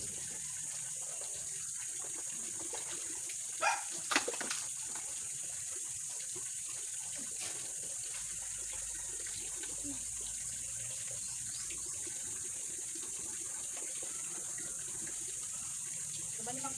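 Water runs steadily from a tap while a dog is shampooed, a faint, even gush throughout with a couple of sharp knocks early on and quiet voices in the background.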